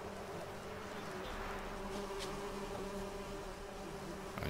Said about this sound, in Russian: Слышу пчел.